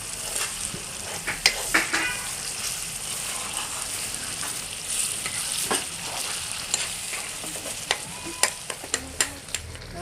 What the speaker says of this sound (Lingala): naosangisa madesu na ngai na sauce na ngai